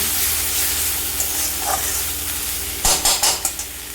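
Shredded cabbage frying in a pan for Bengali cabbage bharta, a steady close hiss and sizzle followed by several sharp scraping stirs near the end.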